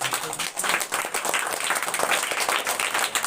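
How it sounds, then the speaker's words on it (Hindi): An audience at a school prize ceremony at Jharkhand Public Residential School, Karudih, applauds in a dense, steady roar of clapping that fills the whole stretch with no speech. "आप लोग जोरदार ताली से स्वागत कीजिएगा।"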